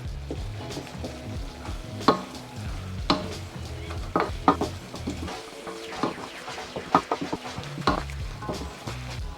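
Chicken pastil stirred in a pan with red chili flakes, a spatula scraping and clinking against the metal in an uneven rhythm over a steady, close sizzle of frying.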